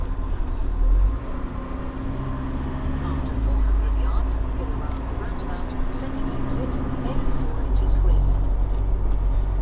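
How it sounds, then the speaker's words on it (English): A small van rated as a truck, with an engine smaller than a car's, drones along at a steady low hum with road rumble inside the cab while someone talks over it. "I say truck, it's more of a bloody van than a truck, this thing."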